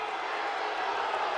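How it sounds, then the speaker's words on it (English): Basketball crowd at a Gonzaga versus Montana game reacts with a sustained, disapproving roar of many voices, loud and unbroken throughout. "the crowd doesn't like what just happened"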